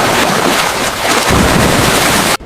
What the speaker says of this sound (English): a violent storm slammed into the fleet without warning